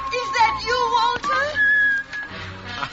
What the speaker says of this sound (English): You still remember my whistle, eh?